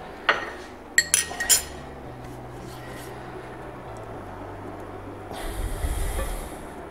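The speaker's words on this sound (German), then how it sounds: "Und dann geben wir die Butter in die Pfanne." Butter goes into a frying pan over moderate heat: a few sharp metallic clinks and clatters of pan and utensils come first, then a soft, brief sizzling swell near the end.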